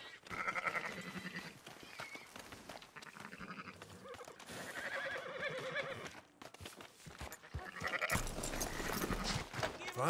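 Sheep and goats in Red Dead Redemption 2 bleat repeatedly in wavering, nasal cries, fairly loud and close, mixed with clattering hoof-like sounds and a busy background.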